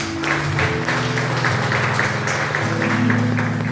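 A church congregation applauds during a worship service, steady clapping from many people blended with sustained instrumental or organ tones underneath, holding at a constant level throughout.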